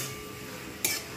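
A metal spoon scrapes and clinks in a pot while spices for a rui fish curry are stirred and sautéed, with a brief faint scrape followed by one sharper clink near the end.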